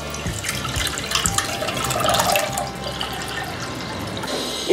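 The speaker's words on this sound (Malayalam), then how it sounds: "ഇത് ഞാൻ ചട്ടിയിലേക്ക് ഒഴിച്ചു കൊടുക്കുകയാണ്." Tamarind water for Kerala sadya puli inchi pours steadily from a full bowl into a cooking pan, making a continuous close splashing and gurgling flow throughout with no talk.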